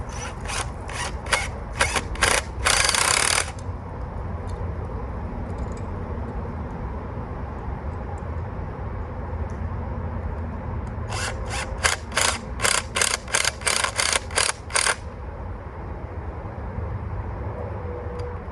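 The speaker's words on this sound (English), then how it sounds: "as you screw the screw in, they expand and they lock everything into place" Expanding anchor screws are driven into a paver mailbox pillar with a ratcheting tool, two bursts of rapid clicking ratchet strokes separated by a quieter stretch of low background rumble.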